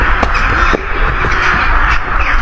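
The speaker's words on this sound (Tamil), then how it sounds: "இல்லை மரங்களில் போய் செட்டில் ஆயிடுச்சுங்க நிறைய காக்கா." Crows caw in a park at night, a few harsh calls cutting through dense, noisy outdoor ambience with other birds chattering in the background.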